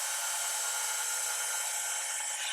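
A stand mixer kneads bread dough of yeast, butter, milk and honey, giving a steady, bright whirring hum that runs unbroken and fairly loud, with no talk.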